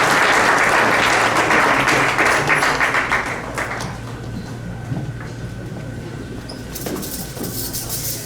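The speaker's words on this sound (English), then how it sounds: "So big hand of applause for them" An audience at an interfaith Eid festival dinner gives loud, dense applause that fills the first few seconds, then fades into a softer scattering of claps and room murmur.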